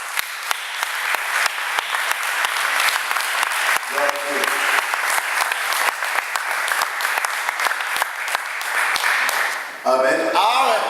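Church congregation clapping loudly and continuously for the Lord at a French-language service, a steady dense applause throughout, with voices briefly rising over it near the end.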